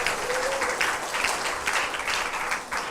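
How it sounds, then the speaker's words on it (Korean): Congregation applause fills a university chapel service, a dense, steady wash of many hands clapping for several seconds at moderate loudness. "우리 찬양팀 여러분께 박수 한번 보내주시기 바랍니다."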